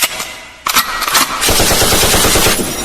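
Rapid bursts of automatic machine-gun fire, loud and close, rattling continuously after a brief quieter lead-in, with sharp repeated cracks.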